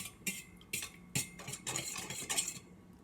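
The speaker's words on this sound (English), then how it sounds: "I'm gonna stir up this yeast" Metal spoon clinks and scrapes against a bowl while activated yeast is stirred, a series of sharp, close strikes in an irregular rhythm over about three seconds with no talking.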